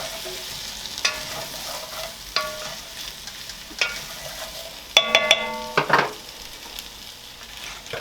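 Potatoes sizzle in grease and butter in a pan, a soft steady frying hiss broken by several sharp clanks and scrapes as they are tossed and stirred, close up with no talking.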